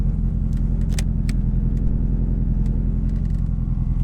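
A misfiring engine in a Mk4 Golf GTI on a cold start idles roughly and unevenly, its low rumble chugging and stumbling steadily throughout, with a few faint clicks and rattles nearby.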